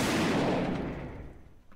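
A double-barrel shotgun blast in the Grand Theft Auto-style video game, one loud broadband boom at the start that decays over about a second into a fading rumble.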